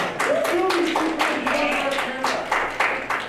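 An audience at a toy-collector convention panel claps in a brisk burst of uneven hand claps, heard close and loud with a voice talking over them.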